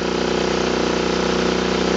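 Dragonfly 80 Cruiser air-thrust outboard motor running at a steady pace, a loud, close, buzzing drone with an even pulse and no voices.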